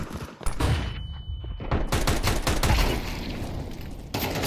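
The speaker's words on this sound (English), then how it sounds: "Throwing a flashbang." A flashbang grenade detonates in Counter-Strike 2 on a custom Wingman map: sharp, loud broadband bangs with a brief high ringing tone, followed by dense, continuous gunfire-like crackle that stays loud to the end.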